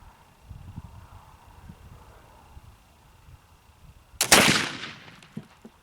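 A flintlock firing homemade black powder made from red cedar, a faint flint snap and then one sharp, loud outdoor boom that trails off into a short rumbling decay over quiet background noise.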